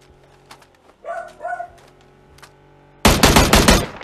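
Gunfire in PUBG: Battlegrounds, a sudden burst of loud, close rapid shots at the end, preceded by quieter clicks and a short sharp yelp-like sound.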